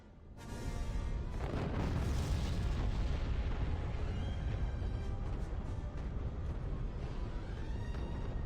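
Capital ship broadside fire in Star Wars: Empire at War, a loud, dense barrage of booming blasts and explosions that swells in quickly and rolls on continuously with layered laser-like tones.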